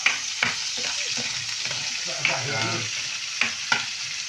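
Onion, garlic and ginger sautéing with pork fat and intestines: a close, steady sizzle broken by several sharp clinks and scrapes of a utensil stirring the pan.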